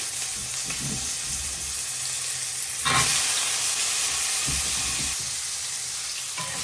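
Potatoes frying in hot oil with cumin and bay leaf in a wok, a dense continuous sizzle and hiss that swells briefly near the middle and then settles, close and loud with no talk.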